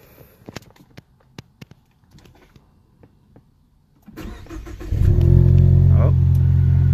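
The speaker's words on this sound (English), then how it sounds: "Go ahead and start up the car." A 2015-2017 Ford Mustang EcoBoost engine cranks and starts with its hood open, rising to a loud, steady idle after a few seconds of quiet clicks and faint background speech.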